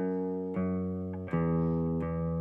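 A guitar sounds a second interval: three sustained, clean, close notes, each plucked and left to ring, no speech.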